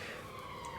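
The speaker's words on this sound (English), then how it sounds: "Excuse the siren in the background, I live in a city." A city emergency siren wails faintly in the distance, a steady far-off tone drifting under quiet room ambience.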